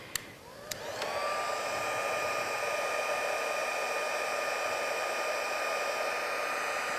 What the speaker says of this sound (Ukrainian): це фен для ембосінгу спеціальний